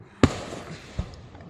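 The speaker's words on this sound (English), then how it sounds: "I want to do the fireworks" Fireworks go off at night, one sharp bang followed by a softer thud, with a faint crackling tail between them.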